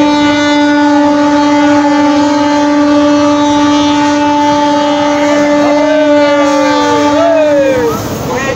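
Steady, loud running noise of a train heard from inside the carriage on a journey from Khagraghat to Karnasubarna: a constant droning hum with sustained tones that bend in pitch near the end, continuous throughout with no voices.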